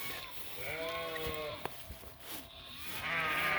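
Several sheep bleat in a pasture with lambs about, giving repeated wavering calls near and farther off over faint outdoor background.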